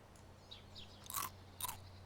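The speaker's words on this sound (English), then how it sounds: "I'm actually eating the Crunch and Crisps" Crunchy crisps being eaten by a character in the video game DayZ, heard as two short, bright crunching bites over a low steady hum, with faint chirps in the background and no speech.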